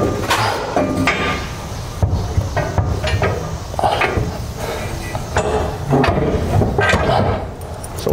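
Washers, nuts and bolts clinking and tapping against a steel truck frame rail while a B&W fifth wheel hitch is installed on a 2007 Toyota Tundra, a steady series of close metallic knocks and rattles in a workshop with no talk.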